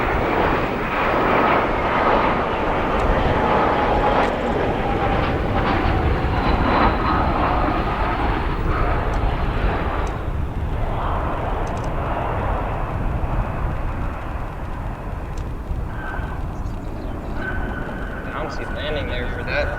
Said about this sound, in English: Bouncy landing there for that Embraer.